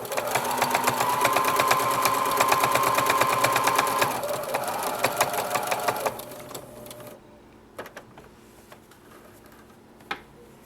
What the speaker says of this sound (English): I'll probably just top stitch that next.